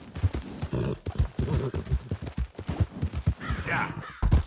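Horse hooves clip-clopping at a gallop in the open-world western game Red Dead Redemption 2, a steady rapid beat of close, fairly loud thuds that fills the whole stretch, with a brief higher whinny-like sound near the end.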